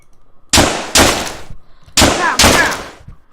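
Four loud gunshots in the video game Deadbolt, fired in two quick pairs with sharp blasts and decaying tails, close and prominent.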